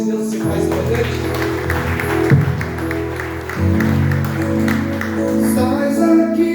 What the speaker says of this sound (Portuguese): Você pode aplaudir esse Deus que se faz presente?